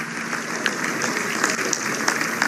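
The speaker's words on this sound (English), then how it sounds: "So another round of applause for 11 investments" Conference attendees at the South Africa Investment Conference clap in a sustained round, with individual sharp claps standing out from the steady crowd applause.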